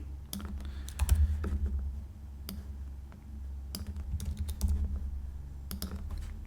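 Quick bursts of typing on a computer keyboard, close and crisp key clicks in short uneven runs over a low steady hum, with no talking.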